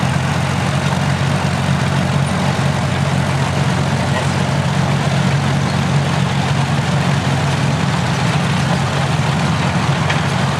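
Vintage tractor engines idle steadily at a parade ring in Wanaka, a continuous low rumble that holds even and close throughout with no clear talk over it.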